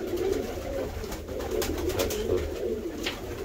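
Pigeons coo steadily in a loft on a cold winter evening, low rolling calls repeating close by with a brief spoken phrase in between.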